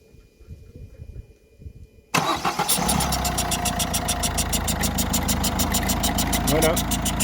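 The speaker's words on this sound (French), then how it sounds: "Voilà, la voiture démarre" A Citroën C4 Picasso 1.6 engine cranks and catches after a timing belt job, settling at once into a loud, steady idle with a rapid ticking pulse, preceded by faint background noise.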